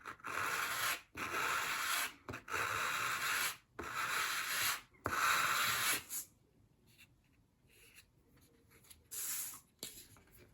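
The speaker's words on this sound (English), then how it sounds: "You can sand that as well, just to make sure you have got a nice flat edge there." A wooden edge of a 1/12th scale dollhouse bookcase is sanded by hand in quick, close rasping strokes with brief gaps, then the rubbing thins to a few softer, scattered scrapes.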